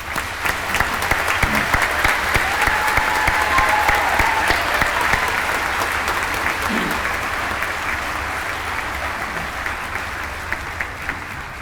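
Graduation audience in a university hall giving a long, warm round of applause, steady and full throughout, with faint background voices and a few louder individual claps.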